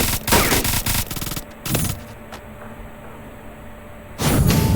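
Gunfire in the mobile shooter Free Fire: a loud rapid burst of automatic shots at the start, then a second short burst, a quiet stretch, and another loud volley at the end.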